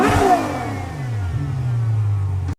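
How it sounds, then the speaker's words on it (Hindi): Expensive car parked in neutral, its engine revved hard then easing into a steady, fairly loud rumble, with pitch sweeping up and falling back over a couple of seconds. "इसकी फेवरेट एक्टिविटी गाड़ी में बैठना, इसे न्यूट्रल में रखना और गाड़ी की आवाज सुनना है।"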